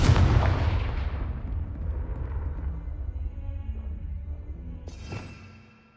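Confringo fire spell blast in Hogwarts Legacy, a loud booming explosion with rumbling tail that decays over several seconds, followed by a brief bright crackle near the end.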